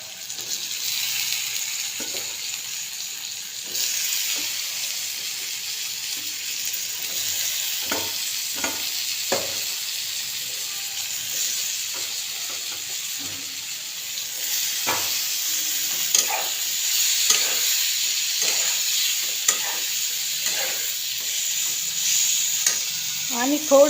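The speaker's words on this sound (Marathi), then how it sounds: "मस्त चांगल्यापैकी परतून घेऊ।" Elephant foot yam (suran) being sautéed in a pan, with a steady close sizzle and frequent scraping stir strokes running throughout, no talking.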